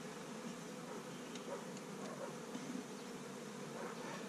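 A steady, continuous buzzing of many honey bees around a hive, a dense hum that holds even throughout with no voices over it.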